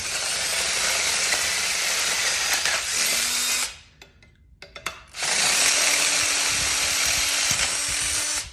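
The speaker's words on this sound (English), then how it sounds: "take your power drill with your 1/4-inch bit, and we're just going to widen these holes" A power drill with a 1/4-inch bit widens holes in the wooden legs of an IKEA Marius stool, whining loudly in two long bursts, briefly stopping with a few clicks and rattles between them.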